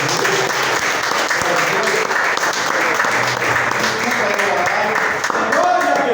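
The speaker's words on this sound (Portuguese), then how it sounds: "Aplauda o Senhor por essa palavra." A church congregation at a teaching service applauds continuously, a loud, thick wash of clapping that holds steady for several seconds with some voices mixed in.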